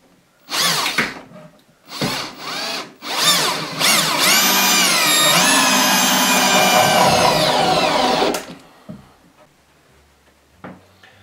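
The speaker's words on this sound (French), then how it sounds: "Et je vais pouvoir mettre donc des vis de l'autre côté." A power drill drives screws into a wooden bar table: a few short bursts of whining motor, then one long sustained run of several seconds that stops abruptly, followed by quiet handling noises.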